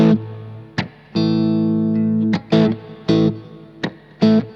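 Distorted electric guitar riff, a few sustained chords broken by short choppy stabs, loud and close.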